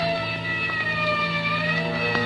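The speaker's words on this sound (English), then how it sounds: "somewhere in the distance I heard a siren" A wailing emergency siren in a 1940s radio drama, a continuous steady tone held under a soft background, fairly strong but with a distant, filtered quality.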